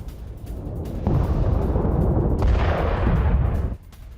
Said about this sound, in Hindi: खेरसोन में ड्रोन अटैक का वीडियो, यूक्रेनी सैन्य ठिकानों को तबाह किया गया।